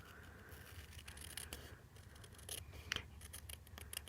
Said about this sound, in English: we're just going to use the edge of the envelope and cut around.